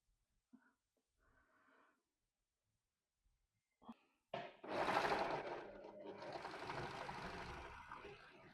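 Overlocker sewing machine stitching fabric pockets: after a few quiet clicks and rustles, the machine starts with a sharp onset and runs as a steady fast whirring buzz for about four seconds, close up.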